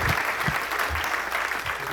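Audience applause at a charity awards event, a steady dense wash of many hands clapping at moderate loudness, with a few low thumps and faint voices underneath.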